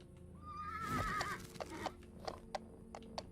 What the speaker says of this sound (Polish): Co się tu dzieje? Konie biegają?